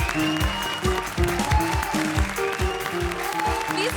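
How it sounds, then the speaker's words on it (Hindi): Loud studio audience applause on a television comedy show, steady dense clapping filling the room, with voices and background music underneath. "जोरदार तालियां"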